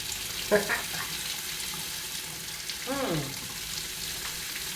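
Water runs from a newly repaired tap in Mongolia as it is tested for hot water, a steady hiss under the room's background noise, broken by a couple of short chirpy sounds.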